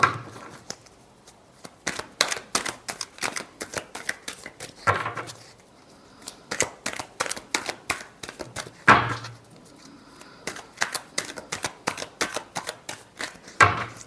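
Tarot cards are shuffled by hand in quick repeated riffles and slaps, bursts of crisp card flicks separated by brief pauses, close and clear with no talking.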